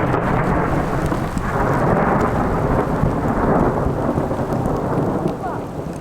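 Steady heavy rain pours outdoors during a thunderstorm, with dense broadband hiss and low rumbling thunder rolling continuously and loudly throughout, no voices present.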